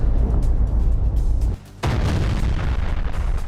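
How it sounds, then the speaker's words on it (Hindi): Heavy explosions from an Israeli air strike in Dahieh, Lebanon roll as a loud, sustained booming rumble that drops out briefly before another blast surges back. "लेबनान के दाहिया में इजरायली स्ट्राइक के दौरान जोरदार धमाके सुने गए।"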